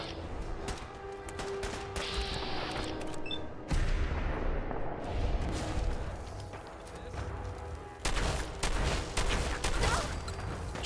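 A legendary gun fires in Fallout 4 amid a chaotic firefight, loud shots and heavy booms recurring in bursts over about eleven seconds, with a voice talking throughout.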